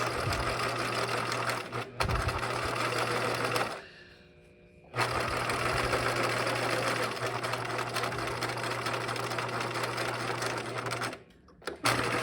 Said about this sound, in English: And I'm only sewing through one layer of my bag.